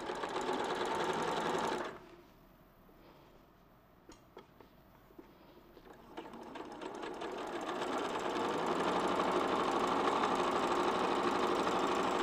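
Domestic sewing machine with a quarter-inch foot piecing a patchwork quilt, its fast motor whirring loud and steady, pausing briefly to a few light clicks before running on again, with no talk over it.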